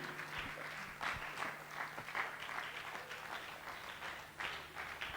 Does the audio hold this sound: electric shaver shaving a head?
no